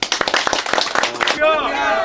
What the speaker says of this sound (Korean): 다시 한번 박수를 좀 부탁드리고요.